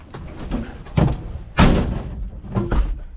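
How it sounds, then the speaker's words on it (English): Someone unlocks and opens the door of an old 1966 Chevy C10 pickup that sat for over three years, giving a few close clunks and thuds with a heavier latch thump in the middle. "Here, I got to unlock the door."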